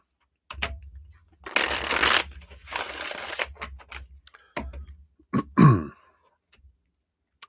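A deck of cards being shuffled for a live tarot-style reading, with bursts of riffling and rustling close up, a few sharp taps, and brief pauses between.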